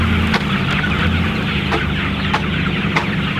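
A flock of about 600 chickens in a pasture range coop, clucking and murmuring continuously up close, with occasional sharper squawks standing out over the steady dense chatter.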